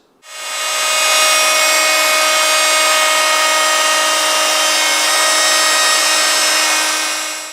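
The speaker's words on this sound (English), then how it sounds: "Now I've got a 1/4 inch slot cutting bit set up in my router, and I've got a straight edge here, so I just need to rip that out" A router fitted with a quarter-inch slot cutting bit, guided along a straight edge, cuts a groove in wood. It spins up quickly into a loud, high, steady whine that holds for about seven seconds before tapering slightly.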